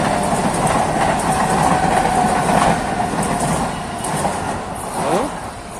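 A local train rumbles past close by, loud and steady with rhythmic wheel clatter and faint metallic squeals, fading slightly toward the end.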